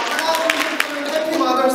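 Clapping for mothers at a church Mother's Day service, a scatter of hand claps from a small congregation mixed with ongoing talk.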